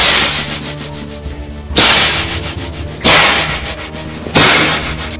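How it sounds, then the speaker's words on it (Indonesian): Three sharp, loud whip cracks at roughly even intervals, each a bright broadband snap with a decaying tail, set over a steady hum and rustle in a martial-arts audio drama set in old Java. "Ternyata suara cambuk itu telah membuatnya terkejut."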